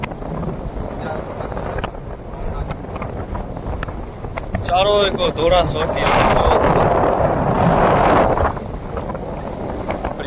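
Wind blows steadily across open water around a small fishing boat in rainy weather, a broad gusty rush that swells and strengthens midway before settling, with people talking throughout.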